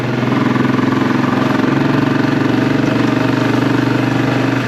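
Close and loud, a classic 500 motorcycle ticks over on a Hitchcock's Goldstar exhaust, its even, rapid thudding idle holding steady throughout with no voices.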